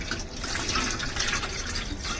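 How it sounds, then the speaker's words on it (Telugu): Water is poured onto garden plants: a continuous, close splashing gush that stays at an even level throughout. "నీళ్ళు పోస్తావా?"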